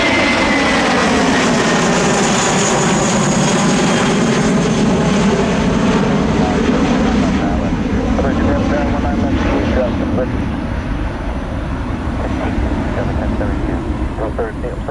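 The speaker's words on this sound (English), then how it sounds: "JetBlue's 1365, the Embraer, now nonstop to Cancun, Mexico." A JetBlue Embraer jet airliner roars past near Tampa, with loud, broadband engine noise that sweeps in pitch as it passes close by and then slowly fades.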